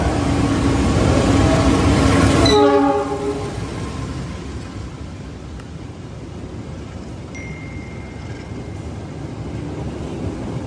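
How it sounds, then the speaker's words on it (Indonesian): The Argo Muria passenger train pulls into a station, blowing a loud multi-tone horn for a couple of seconds before it stops, then a steady rumbling roll of the carriages and a brief faint squeal. "Kereta yang masuk ini adalah kereta api Argo Muria dari stasiun Semarang Tawang, tujuan stasiun Gambir."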